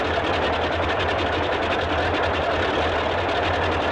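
Right engine of a Boeing 247D cranking at startup in a flight simulator game, a continuous even mechanical whirr with a fast rhythmic chatter, steady and close, no voices.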